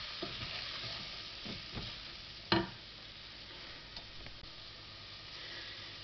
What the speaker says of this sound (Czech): Tak a trochu zapražíme.